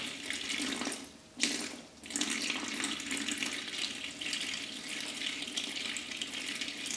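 Steady sparge water pouring from a tap during a homebrew brewday, a continuous broadband rush with a brief interruption near the start, then flowing evenly to the end.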